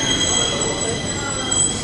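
A Stockholm metro train arrives at a station with a steady, loud rumble and a thin high wheel squeal running throughout, filling the platform.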